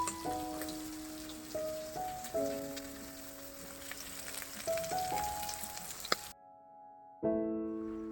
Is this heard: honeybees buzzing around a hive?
no